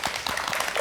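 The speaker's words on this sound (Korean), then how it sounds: "다시 한번 큰 박수 부탁드립니다" An audience and staff applaud at the close of a lecture at a KBS Jeju special event. A short, muffled burst of clapping comes at moderate level with no voices over it.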